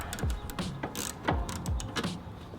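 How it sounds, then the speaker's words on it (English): A ratchet with a 10mm socket loosens the air box bolt on a car during an intake install, giving a close, quick series of clicking ratchet strokes in an uneven rhythm. "let's grab our 10mm and get this bolt right here"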